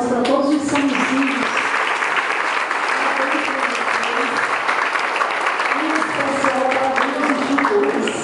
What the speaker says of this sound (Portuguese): pedir a elas uma salva de palmas para todos os sanguizinhos